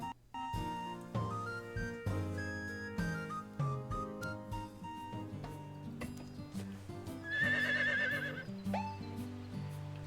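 A horse neighs and whinnies in Harvest Moon: The Winds of Anthos over cheerful background game music with hoof clip-clops, the neigh standing out clearly near the end of the stretch.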